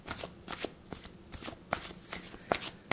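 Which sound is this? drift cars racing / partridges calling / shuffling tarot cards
shuffling tarot cards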